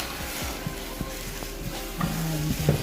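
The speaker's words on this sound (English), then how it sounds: "then you're gonna incorporate your eggs into your veggies. I use a spatula to do this" Eggs stirred into vegetables with a spatula in a frying pan over medium-low heat, a soft low sizzle with light scraping strokes of the spatula, close and fairly quiet.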